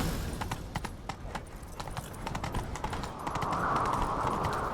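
Rapid hoofbeats of a galloping horse in The Witcher 3: Wild Hunt thud in a steady rhythm, growing louder as a rushing, windy sound builds toward the end.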